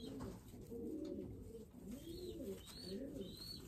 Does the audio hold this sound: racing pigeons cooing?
yes